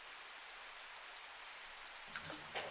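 Rain falling as background ambience for a tabletop role-playing session, a continuous soft hiss of drops with a few faint patters near the end, quiet and without speech.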